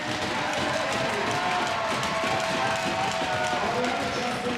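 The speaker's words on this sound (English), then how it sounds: "Ladies and gentlemen, please give a big round of applause for Justin and his entire family." Crowd at a college D1 hockey game between UNLV and ASU applauds and cheers in an arena on Military Appreciation Night, a loud, dense, continuous roar of clapping and voices filling the whole span.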